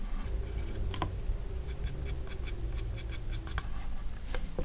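A blunt pencil shading fur on paper for a werewolf drawing: continuous close scratchy graphite strokes with short repeated taps and scrapes, steady and fairly quiet, with no voice.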